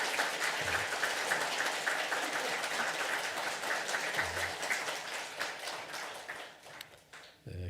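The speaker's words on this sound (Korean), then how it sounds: "우리 모두 큰 박수로 축하해 드리면" A church congregation claps steadily together during a Sunday worship service, a dense, even patter of applause at moderate loudness that thins out toward the end.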